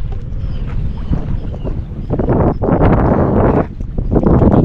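Loud, gusty wind buffets the microphone outdoors while a Daiwa Alphas BF TW 2025 baitcasting reel is cast into a headwind, the roar swelling and dipping continuously across the few seconds.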